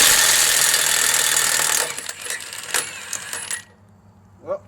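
Milwaukee Fuel 1/2-inch 2767 and 3/4-inch 2864 impact wrenches hammer off nuts: a loud, sustained rattling burst ends near two seconds, then shorter bursts of impacting follow and fade, with a faint clink at the end.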